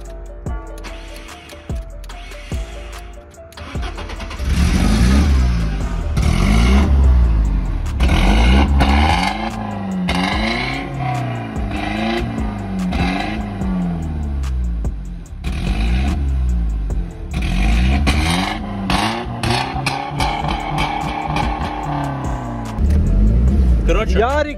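A compact car with an aftermarket tuning exhaust starts and revs repeatedly, a loud, rough engine roar rising and falling in bursts, with people talking over and between the revs.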